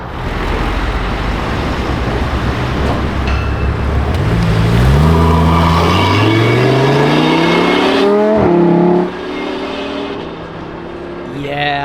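A Lamborghini Huracan Tecnica sweeps by loud and close, its engine note climbing through rising harmonics as it approaches, peaking, then dropping away sharply with a falling pitch as it passes, over steady traffic rumble.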